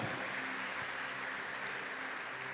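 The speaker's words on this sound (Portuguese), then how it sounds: "Pode aplaudir ao Senhor." A church congregation applauds in a steady, dense wash of clapping that holds throughout, heard from a distance at moderate level.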